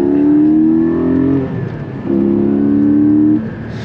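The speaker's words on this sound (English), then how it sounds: "all you got to do is put your foot into that gas, and you're good to go" A Porsche 718 Spyder sports car accelerates hard, its engine note rising loud and close in two strong pulls separated by a brief gear change, with no talk over it.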